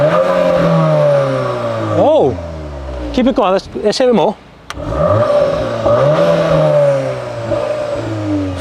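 A VW T-Roc R in sport mode revs at full throttle, its engine rising and falling in repeated sweeps, loud and close, with people talking over it.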